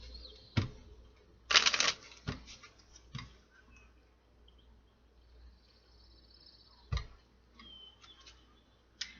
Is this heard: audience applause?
no